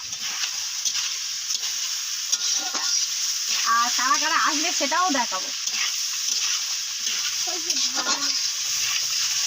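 Potatoes frying in hot oil in a pan while being stirred for a home-cooked Bengali meal, a steady sizzle with scraping stirs in the middle, under a voice talking.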